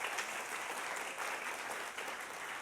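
An audience at a storytelling event applauds steadily, dense continuous clapping throughout with no pauses.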